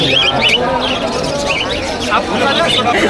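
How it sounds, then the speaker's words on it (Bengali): Many caged birds chirp and warble at the Galiff Street pet and plant market in Kolkata, their repeated bright calls rising over a steady background of crowd chatter and street noise. "চারিদিকে শুধু পাখির ডাক"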